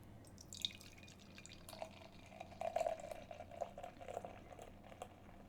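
Imperial stout beer poured slowly from a can, faint quiet trickling and glugging that grows busier midway with small dripping splashes, heard close and alone.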